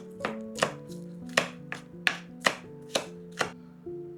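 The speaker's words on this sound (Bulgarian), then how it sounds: "Зеленият лук отново се нарязва на дребно." A knife chops green onion on a cutting board in a steady run of about nine crisp, evenly spaced strikes.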